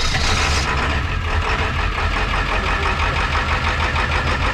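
Engine of a landscaping rig idling steadily, a loud close mechanical rumble with an even knocking pulse throughout and no voices.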